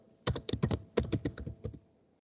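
Fingers type on a computer keyboard, about a dozen quick, uneven clicking keystrokes in two short bursts, close and fairly quiet, ending in silence.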